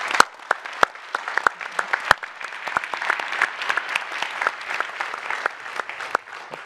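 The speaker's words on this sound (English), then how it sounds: "join me in a big thank you applause for them" An audience at a European employment and social policy discussion applauds the speakers with sustained, fairly close clapping marked by a few sharp individual claps.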